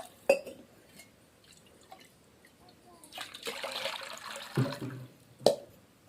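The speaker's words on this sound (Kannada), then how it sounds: "ಇವಾಗ ಎಷ್ಟು ಹತ್ತವ ಅಷ್ಟು ನೀರು ಹಾಕೊಳಕತ್ತೀನಿ ನೋಡಿರಿ" Water poured into a cooking pot for curry outdoors at a farm field, a short splashing fill in the middle after a couple of sharp clinks, with quiet background.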